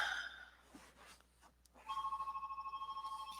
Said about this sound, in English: My phone is ringing, and I will let the answering machine take it.